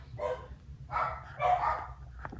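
A pet dog barks indoors at a passing mailman, a few muffled bursts of barking from a short distance over low room rumble.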